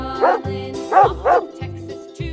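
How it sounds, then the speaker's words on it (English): A dog barks three times in quick succession, loud and close, with short yips between, over a faint low background loop. "Dog."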